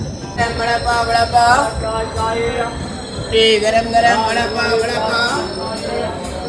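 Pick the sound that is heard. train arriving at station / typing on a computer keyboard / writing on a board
train arriving at station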